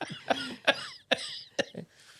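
A person with a smoker's cough lets out a series of about five harsh, rasping coughs, close and fairly loud, separated by short pauses with no talking.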